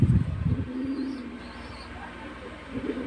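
A pigeon coos softly and repeatedly, close by, while being held for eye drops; low throaty murmurs with a faint high background tone.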